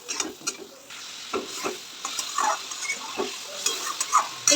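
Spices and ginger paste are stirred and sautéed in a pan for a light katla fish curry with potato, a soft sizzle carrying repeated spatula scrapes and knocks in an uneven rhythm, close by with no talk.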